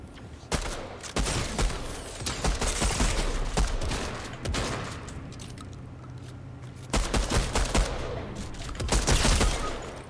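Rapid bursts of enemy gunfire in a Fortnite no-build match crackle loudly in dense volleys, pausing briefly around the middle before another heavy barrage resumes near the end.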